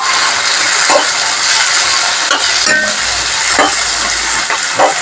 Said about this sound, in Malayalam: സബോള ഇട്ട് പുകയിൽ വഴറ്റിയെടുക്കാം.